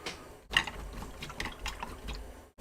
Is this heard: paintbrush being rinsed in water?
yes